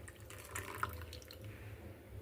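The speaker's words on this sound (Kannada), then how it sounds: "ನಾನು ಜಾರ್ ತೊಳೆದೇನದ ನೀರು ಹಾಕ್ಲಿಕ್ಕತ್ತೀನಿ" Water runs from a tap into a blender jar being rinsed, a faint steady splash and trickle over low background hum, with no talking.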